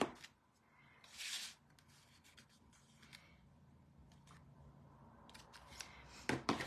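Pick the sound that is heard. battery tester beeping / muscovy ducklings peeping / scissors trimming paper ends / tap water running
scissors trimming paper ends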